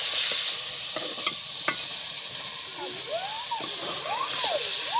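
Chicken sizzles loudly in a hot pan as a masala of tomato, green chili and coriander goes in and is stirred, a steady frying hiss with scraping strokes and a voice briefly under it.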